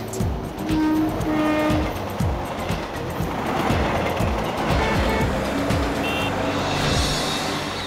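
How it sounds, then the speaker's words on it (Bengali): A Mumbai local train pulls out of the station with a continuous low rumble and rattling wheel noise, mixed with ambient sounds and faint tonal music. "ট্রেন ছাড়ছে।"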